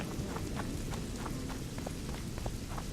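Steady rain pours in The Witcher 2 game world, a dense continuous hiss with soft scattered droplet taps and a low rumbling bed, loud and unbroken for the whole stretch with no voices.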